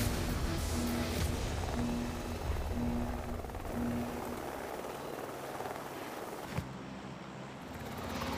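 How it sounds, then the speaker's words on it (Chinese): An aircraft engine drones loudly and steadily before takeoff, a thick roar with a low tonal hum and a single sharp thump near the end. "飞机很快就要起飞了"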